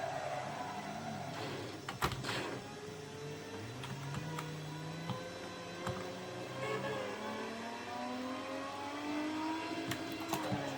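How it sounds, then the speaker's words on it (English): Video game car engine whining and rising through revs while reversing, layered pitch sweeps over a steady hum with a few sharp clicks, heard on a retro Windows XP gaming PC. "It's got a good reversing sound."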